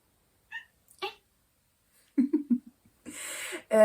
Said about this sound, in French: j'ai le chat à côté qui est bavard